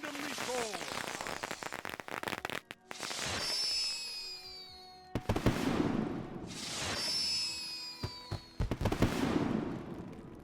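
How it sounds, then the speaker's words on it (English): Fireworks burst repeatedly in The Lord of the Rings Online, each launch whistling upward before loud crackling explosions and sparkling fizz, several volleys overlapping across the scene with game music underneath. "I have all those fireworks"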